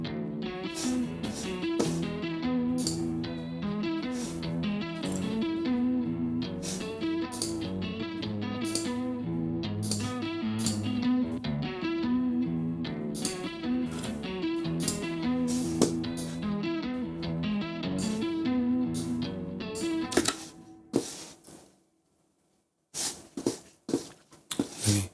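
An electric guitar played through an OD1 overdrive pedal gives thick, sustained distorted chords in a continuous riff, then cuts to near silence before a few short final stabs.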